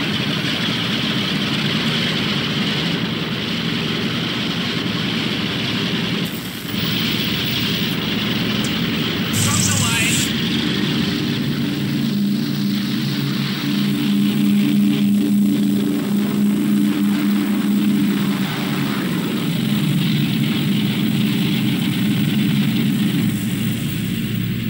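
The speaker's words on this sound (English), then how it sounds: "a flight of Avenger aircraft are about to be launched as we listen to the deep-throated sound of the reliable Wright Cyclone radial engine" Avenger aircraft on a Royal Navy carrier in the Pacific run their Wright Cyclone radial engines before launch, a deep steady roar that swells and shifts while a voice narrates over it.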